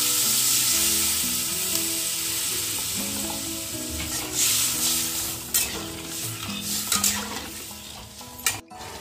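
Vegetables frying for a Bengali kohlrabi and catla fish curry sizzle steadily and loudly in a pan as water is poured in, with occasional clinks of a utensil near the end.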